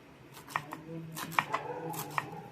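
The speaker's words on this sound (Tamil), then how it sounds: "கொஞ்சம் கொத்தமல்லி எடுத்து பொடியாக நறுக்கி வச்சுப்போம்." Coriander leaves chopped finely with a knife on a board, a few sharp, scattered blade taps over a quiet kitchen background.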